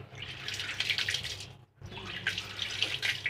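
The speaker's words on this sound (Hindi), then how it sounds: "इस तरह से पानी आ चुका है, काफ़ी इसमें काई वगैरह निकली" Water gushes steadily from a cleaned geyser inlet pipe after an algae blockage was cleared at the angle valve, a loud continuous splash with one brief pause midway.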